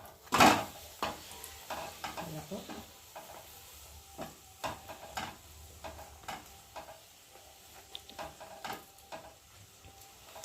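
Aloo paratha frying in a small amount of oil in a pan, a soft steady sizzle broken by scattered clinks and scrapes of a utensil against the pan, close and fairly quiet.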